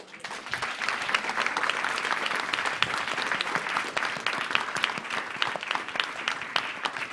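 A conference audience applauds a panel of journalists with a long, steady wash of dense clapping that stays loud and even for several seconds, with no voices over it.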